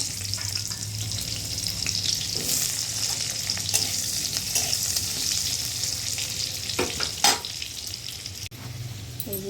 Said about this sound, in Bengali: এবার আলুগুলো ভেজে নেব দেখো এই যে